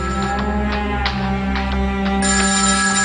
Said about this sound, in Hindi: ऑफिस से फोन आ रहा है